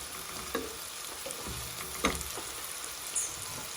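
Onions browning in hot oil with whole Punjabi garam masala, a continuous close sizzle and crackle with a few scraping stirs of a spoon in the pan, no voices.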